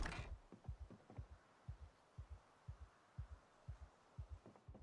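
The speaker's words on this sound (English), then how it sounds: "hearing her heartbeat in my ears" A heartbeat from the survival video game Project Zomboid thumps in slow, regular double beats, about a dozen soft, low pulses over a faint hum with no speech.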